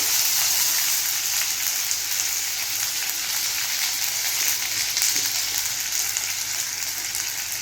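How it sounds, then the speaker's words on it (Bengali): Ginger paste frying in hot oil while being stirred, a steady close hiss and crackle like light rain, continuous and even with no talk. "তারপর আদা বাটাটা দিয়ে দেবো। আদা বাটাটা একটু নাড়াচাড়া করে নেব।"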